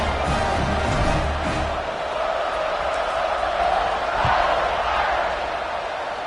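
Football stadium crowd at a USC versus Notre Dame game, a broad, steady roar of cheering and whooping from a large audience, with a few louder swells, continuing for the whole stretch.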